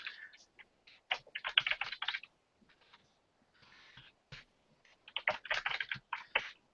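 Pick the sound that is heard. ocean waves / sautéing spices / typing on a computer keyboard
typing on a computer keyboard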